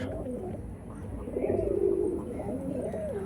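Soft, low cooing of Andhra pigeons nearby, a rolling murmur that swells midway and then continues more quietly.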